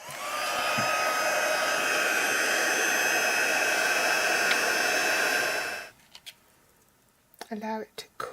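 A heat tool blows a steady, loud whoosh for about six seconds while melting black embossing powder on a stamped card, then cuts off, leaving faint handling noises and short bursts of sound near the end.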